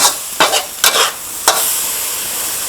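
Glass noodles stir-fried with chicken in a hot pan for a Thai basil dish: loud steady sizzling with a few scraping strokes of a spatula near the start, then continuous frying hiss.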